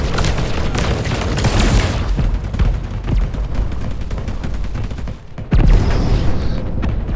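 A grenade goes off in the video game MetalCore amid loud, continuous gunfire and booming blasts, with a brief dip before the heavy barrage resumes.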